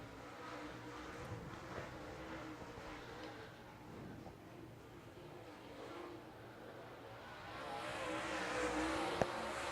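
Super late model race cars roaring around a dirt track, a continuous mid-distance engine drone that swells louder toward the end as cars pass.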